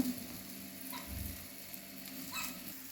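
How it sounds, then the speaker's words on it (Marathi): An egg omelette fries in a pan over a gas flame, putting out a steady, close sizzle throughout with faint scraping in the background and no voices. "आता ही खालच्या साईडनं पण चांगलं असं शेकून घेऊ ह्याला भाजून असं घ्यात"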